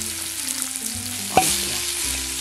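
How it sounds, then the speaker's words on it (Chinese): Minced garlic stir-fries in hot oil in a wok, giving a dense close sizzle with brief scraping strokes and one sharp metallic clink partway through. "现在炒蒜泥， 炒蒜泥"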